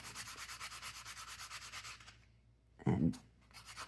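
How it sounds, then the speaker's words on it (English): Steady rhythmic rubbing of a 180 grit construction-grade sanding block buffing wire-wrapped earrings, close and fairly loud for about two seconds, then a pause and a short louder scrape. "So now I'm going to be using 180 grit sanding block."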